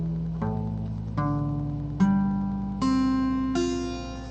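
Guitar strings in P4 tuning, all fourths, are picked one after another in an ascending run of about six clear notes, each ringing on and overlapping the next, close and fairly loud.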